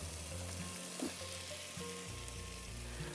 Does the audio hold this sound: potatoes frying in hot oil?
yes